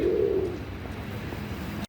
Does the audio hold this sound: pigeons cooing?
yes